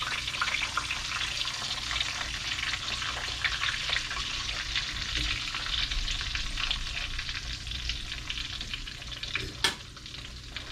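Trout fillets marinated in pickle juice fry in a pan with a steady, close sizzle that holds throughout, with one sharp click near the end.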